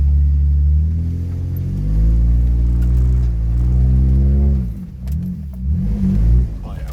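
An off-road vehicle climbs an overgrown gravel hill near an old sand and gravel pit, its engine droning loud and close with rising revs, then surging unevenly as the wheels spin near the top.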